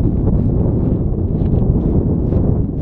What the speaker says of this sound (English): I know you can tell, it's windy up here.